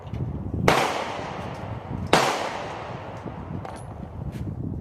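Two sharp outdoor reports from a 30-06 rifle being sighted in at a 100-yard range, about a second and a half apart, each with a brief echoing decay over a faint background.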